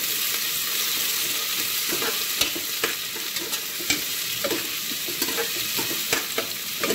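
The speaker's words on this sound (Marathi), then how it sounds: "आता कांदा आहे ना आपल्याला तेलामध्ये चांगला असं फ्राय करून घ्यायचा" Chopped onion frying in hot oil in a pan for chicken khichdi, with a steady loud sizzle broken by repeated scraping clicks of a spoon stirring at an irregular rhythm, close and without voices.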